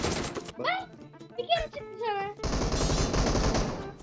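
Rapid gunfire from a pump shotgun in a video game, a dense burst of loud shots near the end following children's excited speech and laughter.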